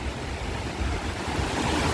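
Sea waves wash onto a beach in a continuous, loud rushing roar with a windy texture and no voices.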